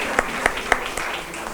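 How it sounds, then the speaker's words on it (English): Sparse applause for a student team from Bachelors of Science in Media coming on stage at a campus event, with a few distinct claps standing out over a steady wash of clapping. "A huge round of applause, please"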